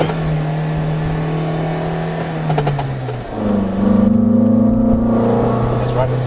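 A 1999 Honda CR-V engine, one with a strange noise, revving to about 5,000 RPM, a loud steady droning whine that dips briefly, then climbs back and holds high, heard up close inside the car.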